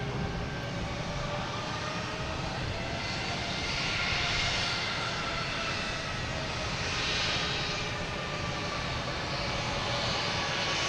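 Airbus A220 jetliner in JetBlue livery landing at Boston Logan airport, a steady, loud, broadband engine roar with whine that swells and recedes slightly over about eleven seconds, with no talk.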